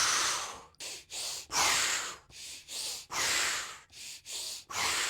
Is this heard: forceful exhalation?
yes